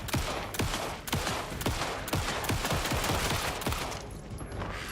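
Rapid gunfire from the video game Alan Wake 2 cracks out in a steady string of loud, evenly spaced shots, close and continuous, thinning slightly near the end.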